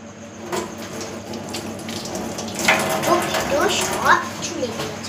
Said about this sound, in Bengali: আমরা বেসিংয়ে হাত ধুয়ে আসি, চল।